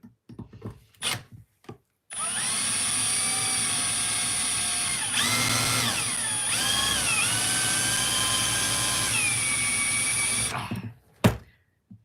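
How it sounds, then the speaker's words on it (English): A power drill bit grinds into a hardened steel pinion from an RC mud truck, a loud sustained high-pitched whine for about eight seconds with shifting pitch as pressure changes, preceded and followed by brief clicks and handling. "I think the pinion's made out of hardened steel as well, so it's just killing every drill bit I'm touching it with"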